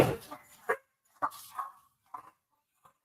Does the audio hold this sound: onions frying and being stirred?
no